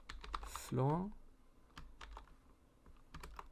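Code being typed on a computer keyboard: quick, light key clicks in short bursts, close up, with a brief voice-like tonal sweep near the start.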